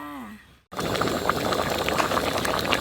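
After a brief hum and a short silence, water bubbles and churns steadily in a pot on a stove, a dense rolling boil close by, while cooking bamboo shoot curry.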